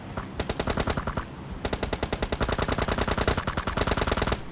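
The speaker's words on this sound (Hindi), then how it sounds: "मैं समझ गया कि स्क्वाड्स की तरफ से गोली की आवाज़ आ रही है।" Automatic gunfire in the video game PUBG, rapid bursts of repeated shots in fast even rhythm with a brief pause, moderately loud and steady, no talking.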